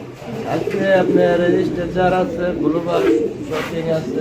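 Pigeons of fancy breeds, among them red strassers, coo in low, repeated throaty calls near at hand, while someone talks loudly over them almost throughout.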